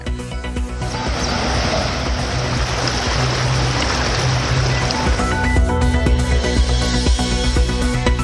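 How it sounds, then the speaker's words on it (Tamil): Floodwater from the Thamirabarani river after heavy rain in Tirunelveli district surges as a loud, steady broadband rush that continues the whole time, with a low rumble underneath and no speech. "திருநெல்வேலி மாவட்டத்தில் நீடிக்கும் கனமழையால் தாமிரபரணியில் வெள்ளப்பெருக்கு"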